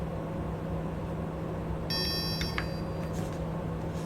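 An Aochuan Smart XR gimbal powers on with a short cluster of thin electronic beeps over a steady low hum and background hiss, fairly quiet and close.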